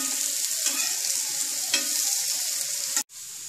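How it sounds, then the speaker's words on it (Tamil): Sliced bitter gourd frying crisp on a tawa over low heat, a steady close sizzle and crackle of oil with light stirring scrapes, cut off abruptly near the end. "அடுப்பை சிம்மில் வச்சுட்டு திருப்பி போட்டு நல்லா மொறு மொறுன்னு பொரிச்சு எடுக்கணும்."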